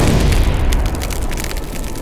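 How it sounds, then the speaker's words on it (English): A deep explosion boom with a roaring, crackling burst that slowly fades over about two seconds, loud and close, used as a fantasy sound effect for a blast of eldritch magical energy. "you hear an almighty explosion"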